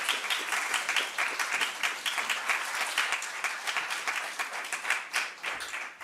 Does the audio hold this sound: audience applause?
yes